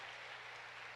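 A church congregation applauds during a worship service, a faint, steady wash of many hands clapping at a distance.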